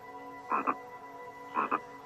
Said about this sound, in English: a curious frog saw this beautiful creature. Overawed by his glowing skin, he croaked loud praises.